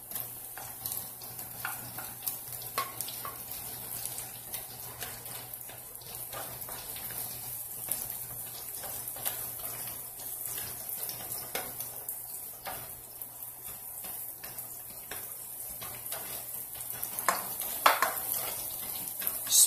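Chopped onions frying in a pan for a stir-fry with pork make a continuous crackling sizzle with faint spattering and small utensil taps, steady at moderate volume and without talk.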